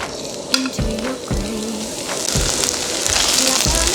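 Scallions stir-frying in a pan crackle and sizzle steadily, with a few clear knocks and scrapes of the spatula against the pan, the sizzle growing denser toward the end.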